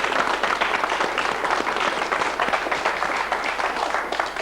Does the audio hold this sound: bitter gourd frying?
no